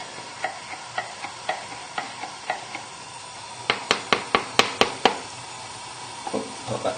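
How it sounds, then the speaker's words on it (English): A spoon stirs sauce in a measuring jug, tapping against the sides in a steady rhythm of small clinks that quicken into a faster run of knocks, close up over a soft background hiss. "I'm just going to give this a little stir in the measuring jug, just to mix it together."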